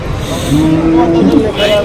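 A Holstein cow moos once, loud and close, in a drawn-out low call, with a faint murmur of noise around it at the Palamaner cattle market.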